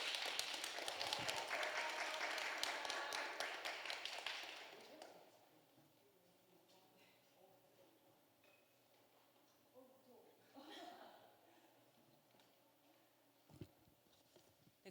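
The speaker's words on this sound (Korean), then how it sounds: "박수 부탁드리겠습니다." An audience at an environmental education talk concert claps to welcome a panelist to the stage, with a dense burst of applause that fades after about five seconds to a quiet room with a few stray sounds.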